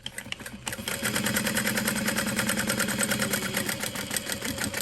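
A sewing machine runs steadily while stitching a shoulder bag, its rapid mechanical whir and needle chatter close and continuous after a brief pause at the start.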